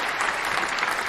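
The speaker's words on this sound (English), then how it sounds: "put a round of applause" A short, steady burst of dense audience applause, loud and continuous from start to end.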